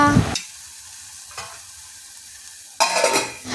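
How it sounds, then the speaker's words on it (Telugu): Gongura leaves frying in a pan and being stirred, with a faint sizzle under scraping stir strokes at the start, middle and end, close by and without talk. "చక్కగా వేగిపోయింది గోంగూర"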